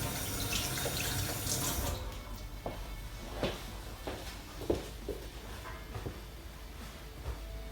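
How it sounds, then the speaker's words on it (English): Water runs steadily from a kitchen tap while hands are washed, a continuous hiss with a few knocks and clatters of hands and items in the sink, close by, no talking. "I'm gonna wash my hands."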